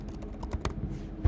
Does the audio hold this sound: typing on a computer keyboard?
yes